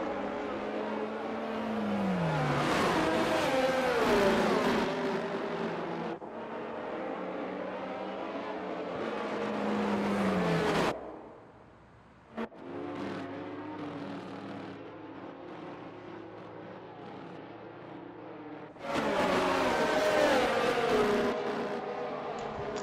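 F1 race cars in a video game restart at Las Vegas, engines wailing loud as they accelerate through rising gears, with a brief quiet gap before the howl resumes as another car passes close.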